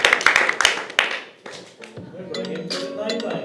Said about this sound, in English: Round of applause for player number 7.